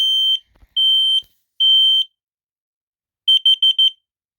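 A smoke detector sounding during a test: three long loud piercing beeps followed by a rapid burst of four short beeps, close and alone in silence.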